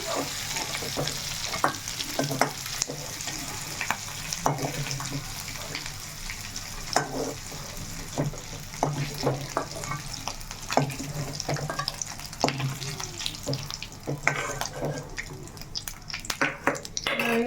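Oil fries and sizzles steadily in a pan while dry fish and egg curry cooks, with a spoon stirring and scraping intermittently throughout and no talking.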